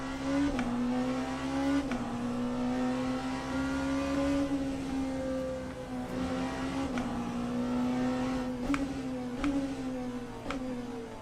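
A Hypercar engine in the Le Mans Ultimate racing game, leaving the pits with little grip, holds a loud, steady, sustained drone throughout, with small clicks and shifts in pitch over the constant engine tone.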